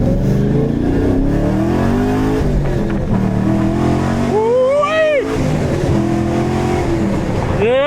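A 2014–15 Chevrolet Camaro Z28 engine revs hard while being driven like a race car, with loud continuous engine roar and rising pitch sweeps, and a voice talks over it.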